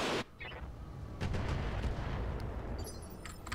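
Gunfire in the tactical shooter Roguepoint: a burst of shots and heavy low rumbling booms over ongoing battle noise, fairly loud, with no talking.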